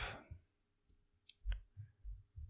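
Pressing the Shift key on a computer keyboard gives a faint, short click or two in an otherwise quiet room.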